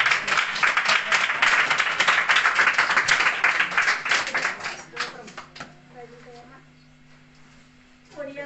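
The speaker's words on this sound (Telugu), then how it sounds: "అందరు కూడా చప్పట్లు కూడా ఆహ్వానిస్తారు." An audience claps in welcome at a PYPA gathering, a dense burst of applause filling the first five seconds before thinning out and fading, followed by quieter room sound and a voice starting at the end.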